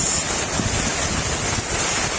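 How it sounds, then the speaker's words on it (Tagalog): Strong wind gusting across an open fish pond, a steady loud roar with rushing buffeting against the microphone, continuous throughout with no voices. "Lakas-lakas ngayon ang hangin dito. Sobrang lakas."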